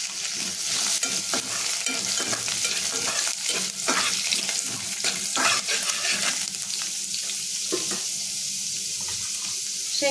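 Peanuts and washed, dried moong dal fry in a pan while being stirred, making a steady sizzle with repeated scraping strokes throughout and no talking.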